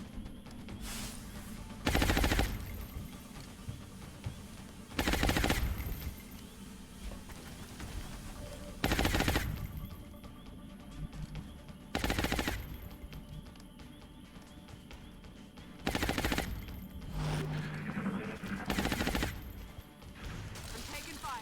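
Gunfire in the video game Long War, with loud bursts of shots recurring every few seconds between quieter stretches of battlefield ambience, and a voice talking briefly.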